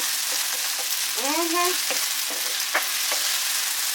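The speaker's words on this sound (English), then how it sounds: "Sauteing our peppers and onions and ginger and garlic." Peppers, onions, ginger and garlic sautéing in a pan for Jamaican brown-stewed chicken back, a steady close sizzle with a few short stirring scrapes and clinks, no talking.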